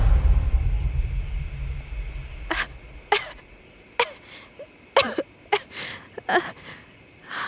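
Several short, sharp coughs in a row after a low rumbling start, each burst brief and fairly close, with quiet gaps between them.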